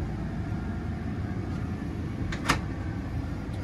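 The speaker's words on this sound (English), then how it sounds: "I'm going to shut the door and make sure that the latch is in place" A closet door in a 2020 Forest River Wildwood 370BL RV swings shut with one short, sharp latch click over a steady background hum.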